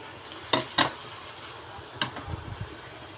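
Eggplant cooked with oyster sauce and fresh oregano being stirred in a pan: a few sharp spoon-on-pan clinks, then softer scraping knocks beneath a faint background sizzle.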